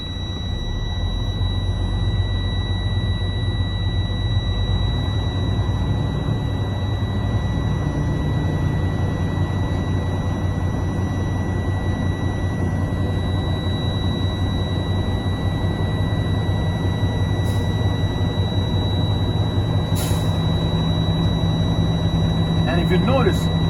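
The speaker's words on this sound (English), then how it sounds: "Start the truck." A truck engine idling steadily while building air pressure, a constant low rumble with a high steady whine, heard close and unchanging throughout.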